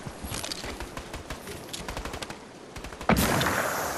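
Bursts of gunfire crack out in quick, irregular volleys during a Fortnite match. The shots are steady and moderately close, then give way to a louder, sustained blast near the end.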